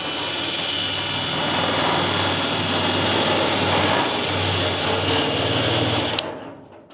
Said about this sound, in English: These things take you a little wire wheel or something and just give it a light cleaning.